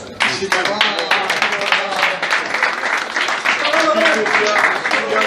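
A crowd bursts into sustained applause, loud and dense clapping that continues steadily throughout.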